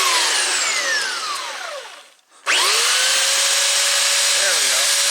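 A lathe spins a wooden lace bobbin while it is sanded, giving a loud, close whine that winds down to near silence and then surges back up to a steady tone.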